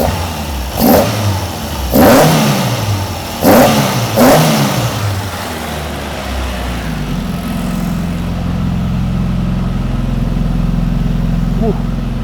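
A Mk2 Ford Escort with a Galaxy engine, running rich, is revved in several sharp bursts. Voices talk between the revs, then the engine settles into a steady, loud idle.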